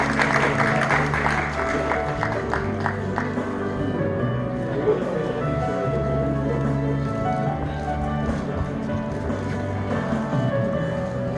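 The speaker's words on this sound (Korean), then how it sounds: "박수 부탁드립니다." Audience applause at the Energy Transition Forum's first-anniversary ceremony and award presentation in Korea, a dense, steady wash of clapping lasting the whole stretch over a low background hum.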